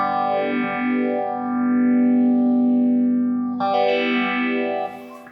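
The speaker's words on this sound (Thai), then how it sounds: "บัดนี้เฮาสิมาเฮ็ดเป็นเสียงเฟเซอร์บัดนี้ เป็นเสียงเฟเซอร์เนาะ" Electric guitar through a Boss ME-20 multi-effects pedal set to a phaser modulation patch, sustained distorted chords with a slow sweeping whoosh rising and falling, a new chord struck near the end before it cuts off; no talking.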